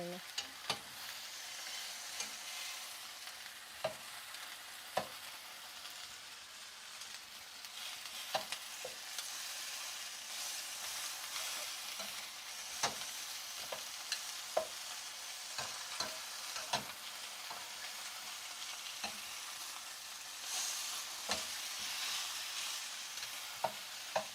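Food sizzles and fries steadily in a pan while a utensil scrapes and clacks against it at irregular intervals, the sizzle constant underneath and the stirring knocks sharp and close.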